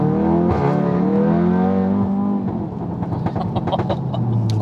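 Tuned Audi TTS engine revving hard on a road, a loud rising, gravelly roar that climbs in pitch then drops back to a burbling crackle with rapid pops near the end.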